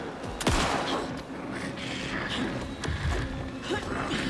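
Gunfire in the video game Alan Wake 2, a few sharp loud shots near the start followed by scattered bursts over dense, busy game noise.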